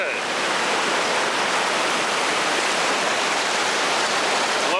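Loud, continuous roar of whitewater on a river rapid with a drop and standing waves, close by and unbroken, a dense rushing wash that fills the whole stretch.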